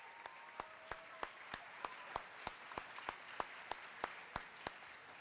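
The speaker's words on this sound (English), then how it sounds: "How about another round of applause for our orchestra and Mr. Thomas?" Slow, evenly spaced claps ring out one by one, about three per second, fairly faint and echoing in a large hall, as an audience at a school honors night applauds the orchestra.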